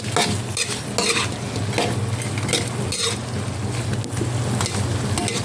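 Butter shrimp sizzles and fries steadily in a pan, with occasional soft clinks of a utensil against the cookware; no voices.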